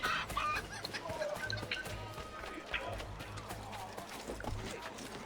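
Chickens cluck in Assassin's Creed III, scattered soft clucks near a graveyard amid footsteps, hooves and ambient game sound, with a voice talking at times.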